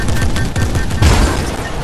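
Rapid gunfire and a blast from a multiplayer video game, loud and continuous with a heavier boom midway through, sustained bursts over dense game noise.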